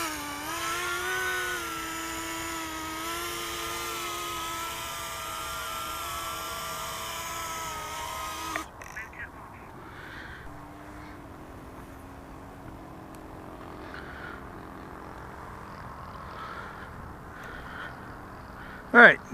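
A Blade Torrent RC drone flying on a 3S 500 mAh battery, a high whining motor buzz with wavering pitch that cuts off abruptly midway, leaving faint background noise and a brief loud thump near the end.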